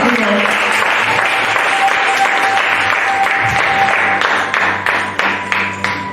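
A congregation at a French-language church service applauds in praise, with dense, sustained clapping that fills the whole stretch loudly and thins slightly toward the end.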